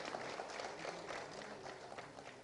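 Faint, steady audience applause follows the signing of a bamboo-production memorandum of understanding between Jammu and Kashmir and NECBDC, a soft, even patter of many hands heard from a distance.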